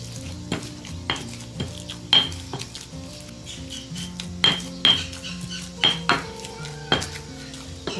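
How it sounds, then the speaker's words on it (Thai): Minced pork mashed and mixed with sauce and sugar in a bowl, heard as repeated clinks and scrapes of a utensil against the dish at an irregular rhythm, close and moderately loud. "ค่อยๆบี้เพื่อให้ส่วนผสมเข้ากันค่ะ"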